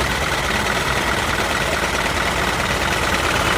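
A truck's engine, likely a 24-volt system recently recharged after driving through floodwater, idles steadily and loudly with a broadband rumble, close and continuous, with no talk.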